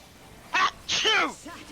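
A single short sneeze bursts out, followed by a brief voiced exhale and a faint tail, fairly close and clear against a quiet background.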